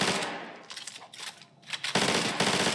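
Rapid bursts of automatic gunfire from a weapon in Fortnite, loud and close, with a brief pause before a second sustained burst; no voices.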